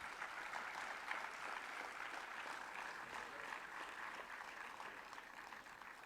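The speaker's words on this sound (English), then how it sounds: "please give a big round of applause" Steady applause from a crowd, continuous clapping at an even level for several seconds with no voices on top.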